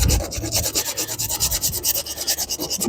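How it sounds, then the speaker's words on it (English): Short, quick strokes of 80 grit sandpaper rubbing across a Datsun Roadster dashboard, a close, rhythmic rasping repeated steadily, about eight strokes per second, with no talk. "They said to sand it with 80 grit and just use real short strokes."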